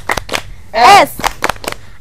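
A class of grade-five schoolchildren doing a rhythmic class clap together, with sharp group claps in a steady beat and a chanted voice breaking in midway.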